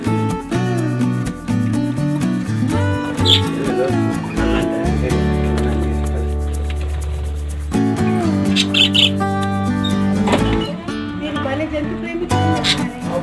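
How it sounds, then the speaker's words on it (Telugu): Lovebirds chirp and squawk in a steady, busy chorus close by, with loud sharp calls rising over a constant background hum. "love birds"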